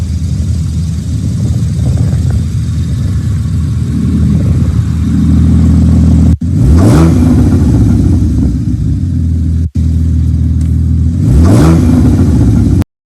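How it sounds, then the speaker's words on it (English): A 3.4-litre flat-six car engine idles, then is revved loudly twice, each sharp rise and fall of engine pitch heard close up and alone. "He revs the engine."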